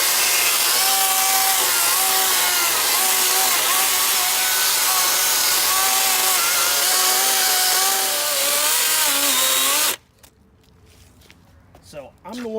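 A DeWalt FlexVolt 60V cordless brushless 16-inch chainsaw cuts through wood with a loud, steady, high-pitched buzz that wavers slightly under load for about ten seconds, then stops abruptly, leaving quiet rustling behind.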